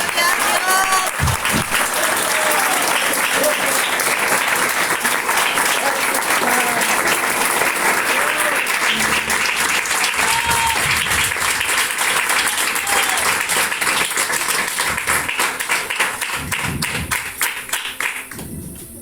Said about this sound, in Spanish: Denle un aplauso al Rey Iglesia